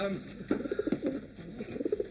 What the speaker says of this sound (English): Wilson, my office is alive with pigeons